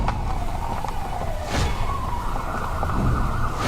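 A cartoon ambulance siren wails as a single sliding tone, moderately loud under busy background noise.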